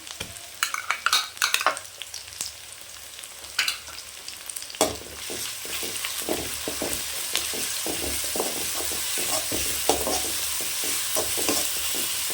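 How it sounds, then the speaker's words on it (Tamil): Ginger garlic paste with small onions sautés in a pan for mutton chukka, a continuous close sizzle broken by repeated scraping and stirring clicks of a spoon, heard alone without talk. "நல்லா இந்த பச்சை ஸ்மெல் போகிற வரைக்கும் நல்லா வதக்கி கொடுங்க"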